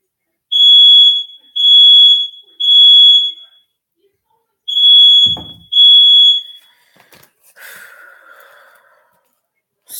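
An indoor fire alarm gives five loud, shrill electronic beeps in an even rhythm with a short pause partway through, followed by a brief sigh and low vocal sounds.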